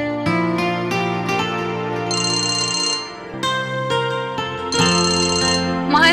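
A mobile phone ringtone plays for an incoming call, a loud, close electronic melody of repeating tones with a bright chiming phrase that comes back, running for several seconds.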